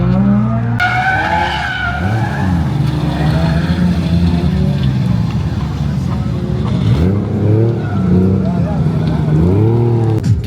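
A Toyota Chaser drift car with a 1JZ engine screams loudly from close by, its revs rising and falling while the tires squeal through slides, with no break in the sound.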